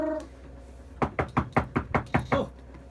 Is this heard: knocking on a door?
yes